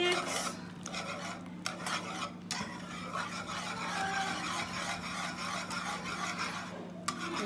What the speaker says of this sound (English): And then you're going to mix.